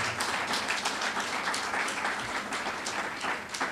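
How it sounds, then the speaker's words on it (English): An audience at a GSAT awards ceremony gives steady, dense applause with many hands clapping continuously at an even level throughout. "So give them a big, big round of applause."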